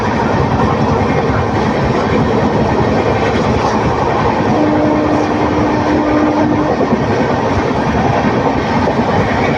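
A passenger train running fast on the Coimbatore to Erode line, a loud continuous rumble with rhythmic clickety-clack of wheels over the rails and a brief faint wheel squeal midway, heard from on board.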